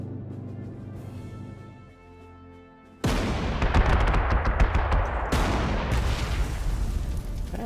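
Gunfire in the wartime strategy game Panzer Corps 2 starts abruptly partway through, a dense burst of rapid shots and blasts that stays loud and steady after a quieter lead-in of low rumbling hum.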